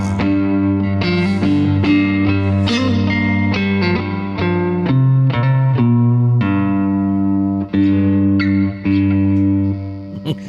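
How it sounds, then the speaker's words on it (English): A three-string cigar box guitar in open G tuning plays a gritty, distorted blues riff with a buzzing tone, steady strummed and picked notes over a droning low string, loud and continuous. "that's the sound of a cigar box."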